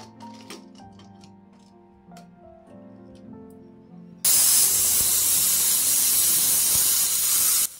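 A pressure cooker on a gas stove, cooking daliya for a baby, suddenly lets out a loud, continuous whistle of hissing steam that drowns out the quiet tonal kitchen sounds before it, then runs steadily for several seconds.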